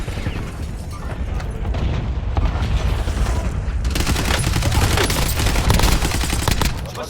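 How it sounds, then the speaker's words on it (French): Sustained burst of rapid gunfire from a 16-round salvo in the military shooter game Squad, dense crackling shots with booming impacts that swell louder midway and continue steadily to the end. "Salve de 16 cartouches envoyée."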